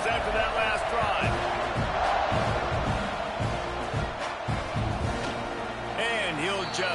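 Football stadium crowd at a Thibodeaux A&M versus Memphis game roars steadily through the whole stretch, a dense wash of cheering with a few sharp thuds and scattered whoops, while a voice talks over it.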